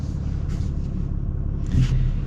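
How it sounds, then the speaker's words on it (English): A 2024 Ram pickup with a Cummins diesel engine idles with a low, steady rumble close by, a slightly louder surge near the end. "It's got that old school diesel rumble that, yeah, I just absolutely love."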